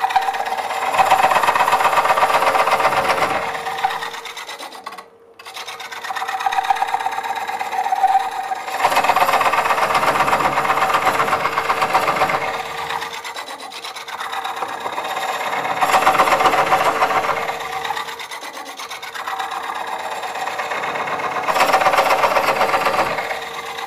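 Wood lathe coring a nest of bowls with a Woodcut Bowlsaver coring tool, a loud steady whining drone that swells and eases in several long cutting passes with short pauses between them, no talk.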